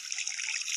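Water runs steadily from a bathroom tap in a short, close, hissing trickle, with no talking.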